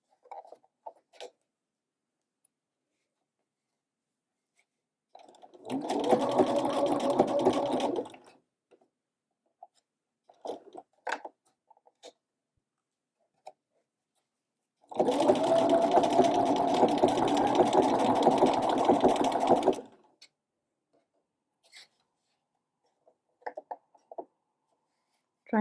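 A sewing machine fitted with a narrow hemmer foot sews a scalloped hem with decorative cord wrapped in the scroll, running in two separate bursts of several seconds each, close and clear, with quiet pauses between.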